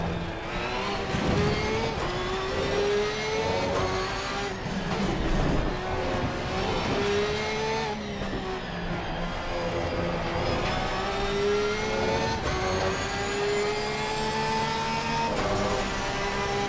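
Lamborghini race car engine in Assetto Corsa Competizione at the Hungaroring, a loud, sustained roar that rises and falls through gear changes, with continuous revving and faint tire noise throughout.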